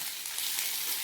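Sambal sizzling and frying in a pan while being stirred, a steady close hiss and crackle running unbroken without any voices.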